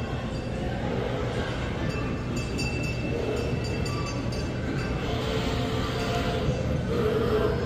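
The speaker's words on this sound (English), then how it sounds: "Here comes the little choo-choo train." A small kiddie choo-choo train rolls past inside a shopping mall, a steady rumbling clatter amid busy indoor mall ambience, continuous and fairly loud throughout.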